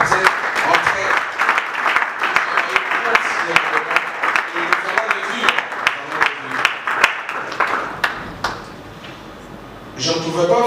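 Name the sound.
audience applause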